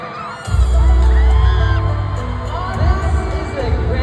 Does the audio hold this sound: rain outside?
no